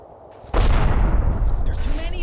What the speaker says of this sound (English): We have some kind of HMG or medium machine gun